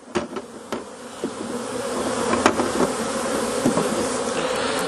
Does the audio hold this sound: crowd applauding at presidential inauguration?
no